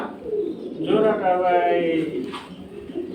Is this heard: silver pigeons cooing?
yes